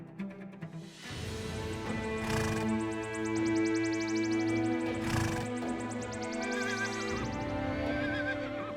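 A horse on the Mongolian steppe neighs in a long, loud, quavering whinny, close by, followed by breathy snorts over a steady background of wind.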